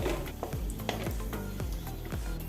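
Cashews and raisins frying in ghee in a pan for semiya payasam, a steady bubbling sizzle with repeated metal spoon scrapes and stirs, close and continuous without speech.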